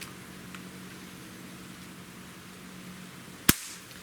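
A single sharp shot from a Beeman AR2078A CO2 target air rifle, one crisp pop standing out against a quiet, steady background hum.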